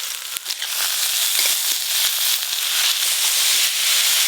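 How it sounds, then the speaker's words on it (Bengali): Potato and pumpkin pieces frying in hot oil along with gime greens, giving a steady, close hiss with scattered crackles and pops throughout, and no talking. "আলু কুমড়ো ভালো করে ভাজা ভাজা হয়ে গেছে, এবার গিমে শাকগুলো দিয়ে দেবো।"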